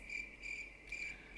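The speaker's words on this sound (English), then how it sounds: "Crickets." Crickets chirp in steady, evenly spaced pulsing trills, a quiet and rather distant night-insect sound with no other noise.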